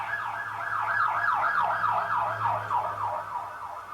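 An ambulance siren wails in fast, repeating up-and-down sweeps, holding steady at moderate loudness as it passes, with no voices.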